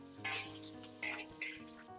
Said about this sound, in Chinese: 把苦瓜倒进来，开大火给它煸炒